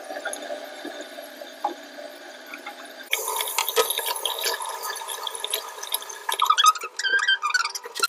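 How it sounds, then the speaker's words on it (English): Running tap water splashes steadily while a face is washed, a soft continuous trickle that grows louder and more broken partway through, with irregular splashes and drips toward the end. "I'm going to wash my face right now."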